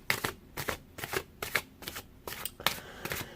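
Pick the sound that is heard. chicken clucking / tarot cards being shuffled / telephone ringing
tarot cards being shuffled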